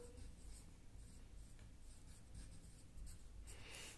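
Handwriting during a Class 8 Hindi lesson: a continuous, close, scratchy scraping of strokes with short pauses and a brighter burst near the end. No one speaks.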